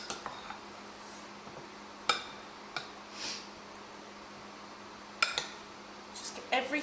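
A spoon stirs vegetable curry ingredients in a microwave dish, giving scattered faint scrapes and a few sharper clinks against the dish, spaced irregularly over a quiet background.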